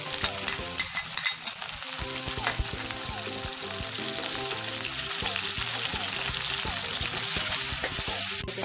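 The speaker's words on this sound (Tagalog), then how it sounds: "Ngayon, magigisa muna tayo ng bawang, sibuyas, at ground pork." Garlic, onion and ground pork sauté in hot cooking oil with a steady, dense sizzle that runs loud and unbroken from start to finish, with no voices over it.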